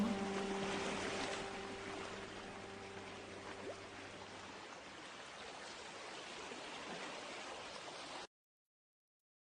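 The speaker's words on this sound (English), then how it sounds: "Listen to the ocean." Steady broadband wash of ocean water that holds for about eight seconds with a faint low tone early on, then cuts to silence.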